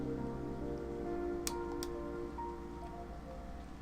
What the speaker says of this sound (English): The rain's not stopping, huh?